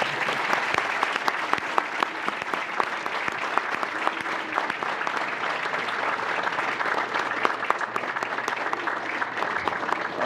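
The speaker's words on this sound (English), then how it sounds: "let's give them all another round of applause." A conference audience gives sustained, dense applause that stays steady and fairly loud for about ten seconds, with no pause.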